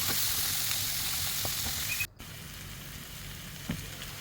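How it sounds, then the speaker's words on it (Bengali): Red amaranth greens fry in a pan with a loud, dense sizzle that drops suddenly midway, as if stirred or moved, then carries on at a lower, steady hiss. "তো শাকগুলো দিয়ে দিলাম, একটু ভালো করে ভাজা করে নেব।"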